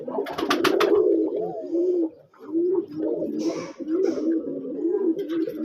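Red-headed white pigeons cooing in repeated soft, throaty rolling calls close by, with a few sharp clicks and rustles near the start and a brief hiss of noise midway.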